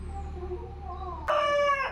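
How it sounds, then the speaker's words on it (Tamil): Quiet ambience with a faint distant tone, then a rooster abruptly breaks into a loud, close crow that carries to the end. "எவ்வளோ அழகாக கூவுது பாருங்கள் சேவல்"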